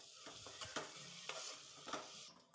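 Curd, fresh mint and coriander stirred into paneer biryani masala in a pan, with a soft steady sizzle and several distinct scraping spoon strokes spaced across a short stretch, close and fairly quiet.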